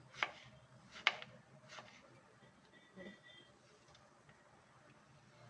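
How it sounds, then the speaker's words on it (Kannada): Bottle gourd being cut into small pieces on a board, a few distinct knife chops spaced about a second apart, faint against a quiet room hum. "ಈ ಥರ ಸಣ್ಣ ಕಟ್ ಮಾಡ್ಕೊಳ್ತೀನಿ"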